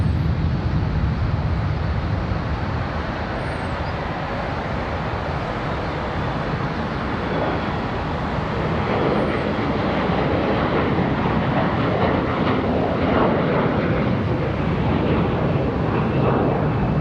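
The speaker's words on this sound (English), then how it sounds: "Departing right now with the United Express" A United Express Embraer E175 jet departing Charlotte Douglas airport, a sustained engine roar that builds gradually and grows louder and rougher toward the end.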